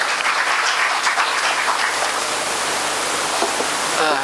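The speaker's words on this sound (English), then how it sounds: "please welcome him with a big round of applause" Dense, steady applause from an audience, a continuous wash of clapping that holds at an even level throughout.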